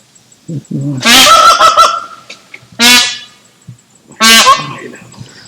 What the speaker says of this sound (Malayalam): തലയ്ക്ക് മേളിലെ മരത്തിൽ നിന്ന് മയിൽ ഒച്ച വെച്ചത്